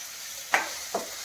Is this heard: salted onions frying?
yes